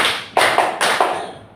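A classroom of students claps together in rhythm, a few sharp collective claps in quick succession that ring briefly in the room, loud and close with no talking.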